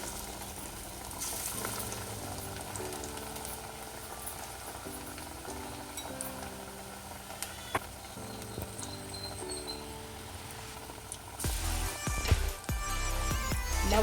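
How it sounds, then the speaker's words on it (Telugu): Lentil vada fritters deep-fry in hot oil with a steady bubbling sizzle under background music, growing louder and busier toward the end. "ఒకవైపు ఫ్రై అయినాక ఇంకోవైపు వేసేస్తాను వడ ఫ్రై అయిందండి"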